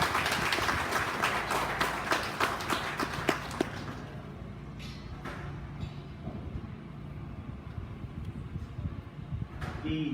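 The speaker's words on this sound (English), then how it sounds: "Please give the young lady on the end a round of applause." An audience at a county fair sheep show applauds the champion commercial breeding ewe winner, with a burst of hand clapping that fades into quieter crowd murmur and scattered sounds.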